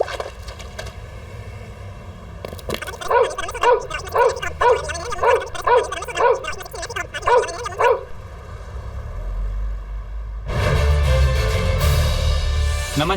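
An animated dog chases a girl and barks in a rapid run of about a dozen yaps over a few seconds, with scuffling noise before it and a louder burst of bustle afterward.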